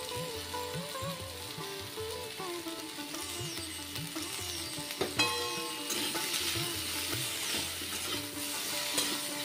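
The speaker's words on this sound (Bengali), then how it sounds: "আসলে আলু আর সয়াবিনটা যখন ভাজা হয় তখন যদি একটু নুন দিয়ে দেওয়া হয়" Potatoes and soybean chunks frying in oil with salt give a steady, close sizzle with occasional stirring scrapes, set under a melodic music track that plays throughout.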